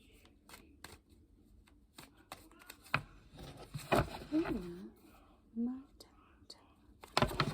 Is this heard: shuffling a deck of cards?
yes